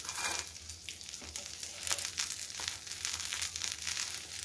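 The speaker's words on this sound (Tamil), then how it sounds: "இது நம்ம எடுக்கிறதுக்கு திருப்பி போட்டு பாருங்கள், நல்ல ஒரு கிறிஸ்பினஸ் சவுண்டு கேட்குதா" A crispy cheese masala chapathi sizzles and crackles on a hot pan as it is flipped, with soft frying hiss and a few scraping clicks, close and fairly quiet.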